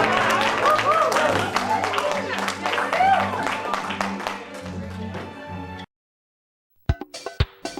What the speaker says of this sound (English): So a round of applause for the staff members